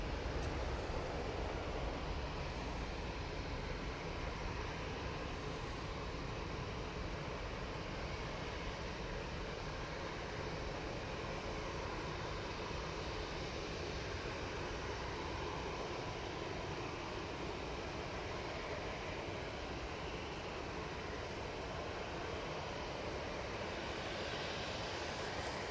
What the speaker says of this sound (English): We'll see it power down the runway.